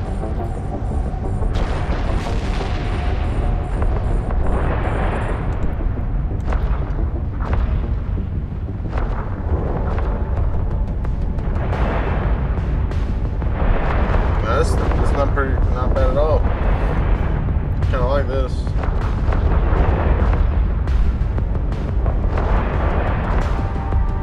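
Spaceship weapons firing on hostiles in the EVE Online video game, a continuous rumbling barrage of booms and blasts with repeated bursts, a voice heard over the combat.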